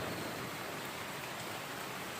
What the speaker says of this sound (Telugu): రామన్పేటలో జిప్ జిప్ వాన పడుతుంది.